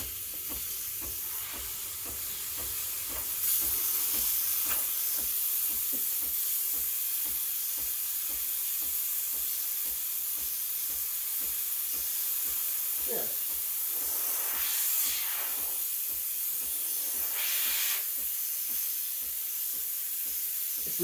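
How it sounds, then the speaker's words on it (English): Breville Barista Express BES870 steam wand steams and froths milk in a jug: a continuous loud hiss with rising, gurgling whistles and a steady rhythmic pump ticking underneath, lasting about twenty seconds. "So just turn it on, give it about 10-15 seconds for it to start steaming and reach full pressure."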